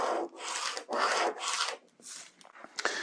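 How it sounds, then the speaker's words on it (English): A marker scratches across pattern paper in several quick, close strokes with short pauses between them, dry and rasping, with no talk over it. "I'm just going to draw this in green"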